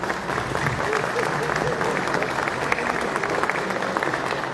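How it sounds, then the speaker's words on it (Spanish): An audience at a talk on peacebuilding applauds speakers on a panel, a dense, steady clapping from a crowd that stays loud and even for several seconds. "por favor, nuevamente fuertes aplausos para nuestros expositores"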